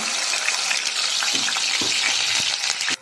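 Onion paste frying in hot oil in a kadai, a dense, steady sizzle with crackling close up, no talking.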